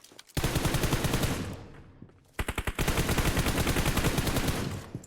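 Rapid automatic gunfire in the PUBG Mobile game, loud close bursts of evenly spaced shots, a short pause, then a longer sustained volley.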